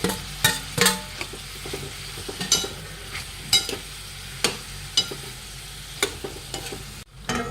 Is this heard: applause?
no